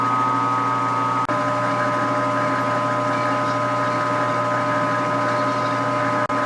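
Grizzly G4003G metal lathe turning at 70 RPM while taking a cut, a steady close hum with layered motor tones running throughout, broken by two brief dips.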